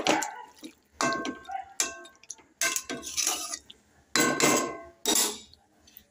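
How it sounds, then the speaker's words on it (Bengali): Spinach stalks and vegetables stirred in a pan with a utensil, giving a series of sharp metallic scrapes and clinks in irregular bursts roughly every second, close and fairly loud, with a faint watery sizzle between strokes. "দিয়ে এবার ডাঁটা আর সবজিগুলোকে নাড়াচাড়া করে দিচ্ছি আমি"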